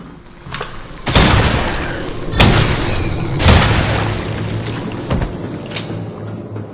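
Gunshots in the first-person survival horror game Resident Evil 7: several loud, sharp bangs spaced about a second apart, each trailing into a rumbling, noisy tail over a dark background.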